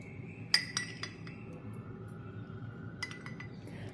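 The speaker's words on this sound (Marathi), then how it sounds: "आता हे दही आपण जे घुसळून घेऊया" Yogurt is whisked in a bowl for a date raita, with a few light clinking taps of the utensil against the bowl amid a quiet room hum.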